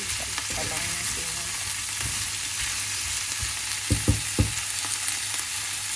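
String beans sautéing in a pan for pork adobo with tofu: a steady, loud sizzle with occasional scraping and tapping of the stirring utensil, and no voices.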